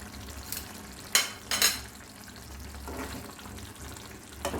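Rohu fish kalia gravy simmering in a pan with green chili added, a quiet low sizzle broken by a few brief louder scrapes or clinks.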